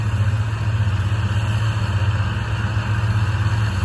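A tractor engine hooked to a farm machine runs steadily nearby, a constant mid-pitched drone with slight rhythmic pulsing and no change in speed.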